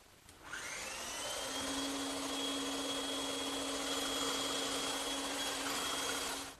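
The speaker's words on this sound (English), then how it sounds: "I'll cut it out on the bandsaw" A bandsaw cutting a curved wooden side piece for a chair, heard as a steady, close whirring drone with a thin high whine that starts after a brief pause and holds evenly throughout, with no talking.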